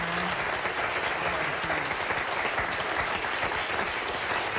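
Studio audience applause rings out as steady, dense clapping that fills the room for several seconds at an even volume, with no voices over it.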